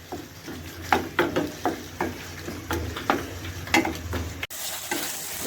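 Tomatoes sizzle steadily in a pan while a spoon stirs them, giving repeated scraping clicks at an irregular rhythm; close and moderately loud, with no talking.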